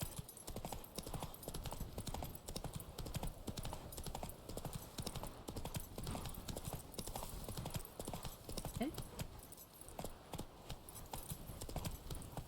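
A horse gallops in The Witcher 3: Wild Hunt, with rapid, continuous hoofbeats pounding loud and close throughout, and a brief whinny partway through.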